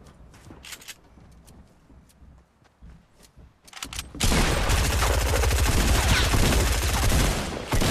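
Sniper fire in Fortnite turns into a loud, dense burst of gunfire after a few quiet seconds, with sharp cracks carrying through the rest of the moment.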